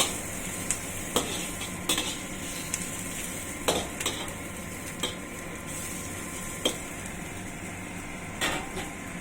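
Squid adobo ingredients frying in a pan until golden brown: a steady, dense sizzle punctuated by repeated scraping stirs of a utensil against the pan, close and without talk.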